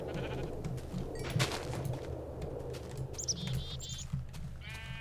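Minecraft sheep bleat a few times over a low game background, close and fairly clear, with bird chirps scattered among them.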